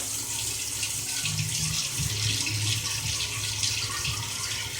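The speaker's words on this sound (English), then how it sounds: "And now is the time when I add the water." Water pouring from a tap into a cooking pot on the stove, a steady rushing splash that holds evenly for a few seconds with slight gurgling shifts, close and alone without speech.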